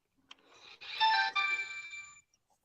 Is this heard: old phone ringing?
yes